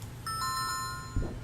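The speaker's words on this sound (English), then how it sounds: "Let's use the doorbell." A video-game doorbell at a mansion entrance in 2064: Read Only Memories gives a short two-tone electronic chime with ringing overtones, followed by a soft thump.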